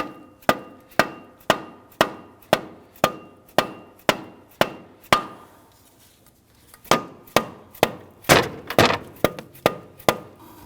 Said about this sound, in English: I'm going to go ahead and use my mallet here.